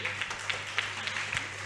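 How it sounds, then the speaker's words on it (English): Scattered applause for the illustrator of a book at a school book-release event, with sparse claps over a steady hum, fairly faint and thin rather than a full ovation. "A big round of applause for him, please."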